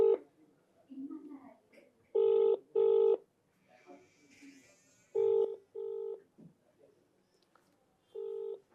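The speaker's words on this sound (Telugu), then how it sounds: "ఒకసారి ఫోన్ చేయండి అమ్మాయికి" A phone call ringing over a speakerphone, with repeated loud two-burst ring tones spaced a few seconds apart and quiet room noise between them.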